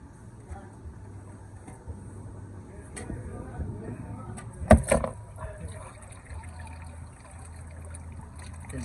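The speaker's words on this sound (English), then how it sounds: "okay, just let it drain for about 10 minutes." Engine oil draining from a 2.4 Kia Sorento after the drain plug comes out, a faint steady trickle under a low hum, with a brief clatter midway and a voice speaking.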